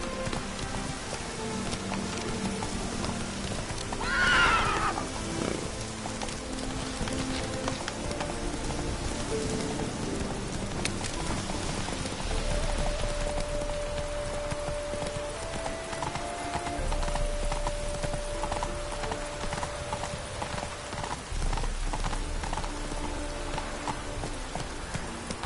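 Roach the horse gallops in Witcher 3, hooves clip-clopping in a steady run through falling rain, with a brief whinny-like sound early on.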